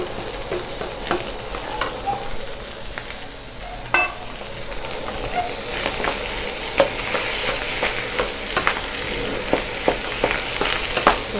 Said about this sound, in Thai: พัดทุกอย่างเข้ากันเสร็จเรียบร้อยเนาะ